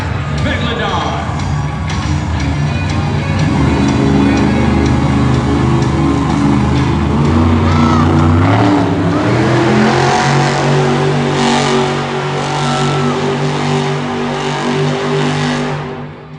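The Megalodon monster truck roars loudly through a donut run at a Monster Jam show in a Baltimore arena. Its engine revs rise and fall continuously under an announcer's voice and crowd noise.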